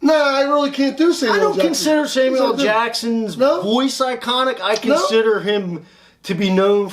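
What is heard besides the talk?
None of the usual background noises is heard.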